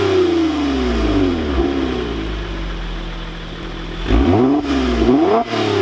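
A 2022 Toyota Camry TRD engine revs through its exhaust, opening with a falling rev from a high idle, settling into a steady drone, then two quick sharp throttle blips near the end, loud and close.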